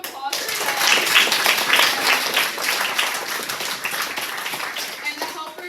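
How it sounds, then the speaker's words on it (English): Audience applause after a request to clap for the presenters at an Eagle Scout presentation, dense steady clapping from a room of people that starts abruptly and continues evenly for several seconds before easing slightly. "Let's give a big round of applause for them."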